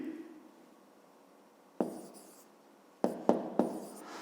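Numbers written by hand during a fifth-grade maths exercise: a soft scratchy stroke followed by sharp marker-like taps and short scrapes, four distinct strokes spaced over a few seconds, close and quiet.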